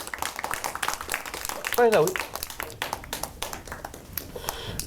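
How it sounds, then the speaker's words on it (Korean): An audience claps to welcome a speaker at a humanities lecture, a steady patter of applause running throughout, while someone talks over it. "우리 구의원 이사장님 손뼉으로 환영해 주시죠"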